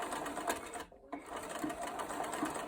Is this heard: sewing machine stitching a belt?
yes